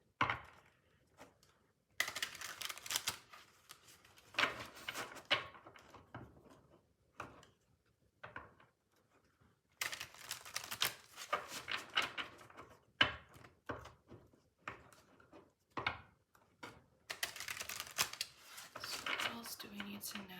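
Tarot cards are shuffled in short bursts of papery riffling and slapping, close and fairly quiet, separated by brief pauses, with a voice speaking softly between some of the bursts.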